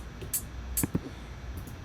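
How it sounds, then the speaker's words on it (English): Crisp open hi-hat hits from an electronic dance remix drum pattern sizzle briefly at irregular spacing, thin and airy above a quiet low rumble, with a couple of soft kick-like thuds midway. "This is your open hat right here"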